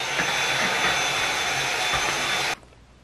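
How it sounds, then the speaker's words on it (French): A new household vacuum cleaner runs at steady full volume, a loud, even whooshing roar close by, then cuts off abruptly near the end, leaving only quiet room sound. "T'aimes pas la nouvelle balayeuse toi?"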